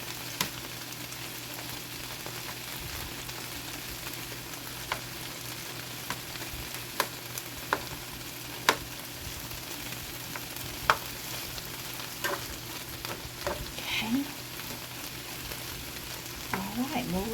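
Smoked sausage and chopped mushrooms fry in a skillet with a steady, moderate sizzle, punctuated by occasional sharp pops and light clicks of stirring, with no talking.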